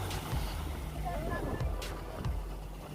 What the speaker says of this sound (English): Here comes the fishing boat coming out.